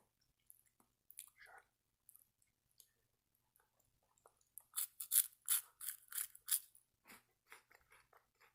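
Kinder candy is chewed close to the mic with the mouth open, first in sparse wet clicks, then in a burst of loud, crisp crunches, before tapering to softer chewing.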